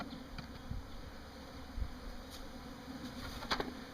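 Honeybees at an open hive, a continuous low buzz of many bees close by, punctuated by a few faint knocks and clicks of equipment.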